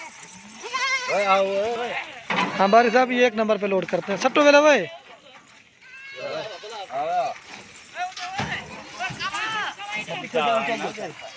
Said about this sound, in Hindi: ये नंबर 1 पे ये गब्बन बकरी लोड करें।